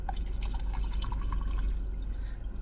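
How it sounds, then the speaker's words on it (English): Water pouring in a steady continuous stream with dripping, splashy detail over a low rumble, close and unbroken. "That's a water pour, you know what I'm talking about?"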